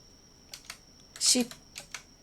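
Keys on a computer keyboard are pressed while working on a document. A few scattered, faint clicks lead to one louder, sharper keystroke near the middle, then more light taps.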